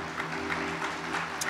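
A church congregation applauds together in a steady, fairly faint wash of clapping over a low hum, with no single clap standing out.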